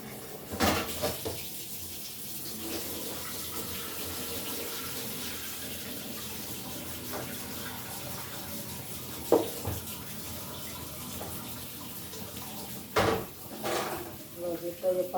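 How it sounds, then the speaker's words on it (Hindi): Tap running steadily as water fills a vessel for heating in a home, a continuous hiss beneath faint room noise, with a few sharp clinks of dishes or metal scattered through and a louder clatter near the end. "ये पानी भर रहा है"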